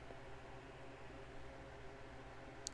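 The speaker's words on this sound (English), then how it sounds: "I have my fan on because it's kind of hot in here, so apologies for the white noise in the background." Electric fan running in a warm indoor room, a steady soft whooshing white-noise hum that holds evenly throughout with no talking.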